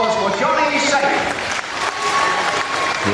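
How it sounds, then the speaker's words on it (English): An audience applauds at a professional wrestling bout after a fall goes to the world champion, sustained clapping and crowd noise throughout, with a commentator talking over it. "A nice round of applause for Johnny Saint."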